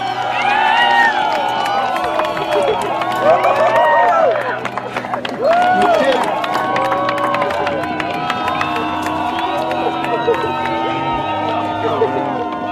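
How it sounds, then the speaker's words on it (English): Large crowd cheering and shouting continuously and loudly, a dense roar of many voices with whoops and scattered clapping rising and falling throughout, close and sustained. "the crowd cheered as the two men accomplished a feat many said was impossible"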